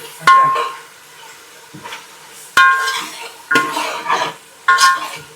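A metal spoon scrapes and clinks against a pan as cabbage and chana dal curry is stirred after ginger goes in, with four sharp knocks spaced among softer scraping and stirring, loud and close.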